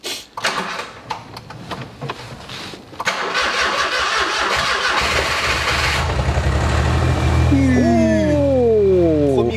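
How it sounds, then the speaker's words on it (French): An abandoned Smart Brabus car recovered from a farm cranks with a few clattering bursts, then catches and settles into a steady, even idle that continues to the end, with a whine rising and falling near the close. "ça démarre au premier coup de cric ça. Ah ça ronronne."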